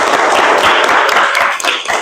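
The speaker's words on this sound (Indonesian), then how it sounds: "Tepuk tangan untuk kita semua." Dense, steady applause from a group at a teacher performance assessment in an Indonesian classroom, loud and continuous for about two seconds with no talk over it.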